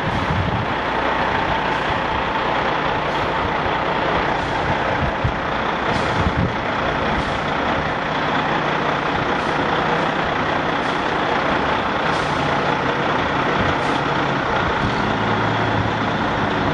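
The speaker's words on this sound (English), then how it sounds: "here's the truck we're going to be converting" A truck engine, the vehicle due for conversion to an alternative fuel system, idles steadily and loudly for the whole stretch, with faint reversing beeps and air-brake hisses over the broad rumble.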